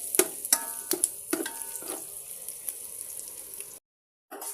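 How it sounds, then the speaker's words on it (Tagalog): Onion and garlic sautéing in pork fat for sinigang na baboy, a soft crackling sizzle with intermittent stirring clicks that cuts off briefly near the end. "Ayan, ginigisa na natin yung sibuyas at bawang."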